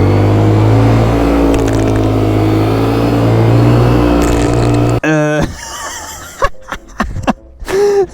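A Raptor quad bike engine revs hard for a burnout, a loud sustained roar that cuts off abruptly, followed by clattering impacts and scattered noises.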